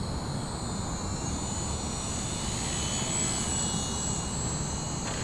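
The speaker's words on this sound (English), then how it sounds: "Nice smooth wheel landing on that rudder, and as the tail comes down, no problem hanging on to it." An H-King Savage Bobber compact STOL RC model airplane, 1000 mm wingspan, lands with a steady thin motor whine and whirring propeller, held at moderate distance over constant wind-like noise.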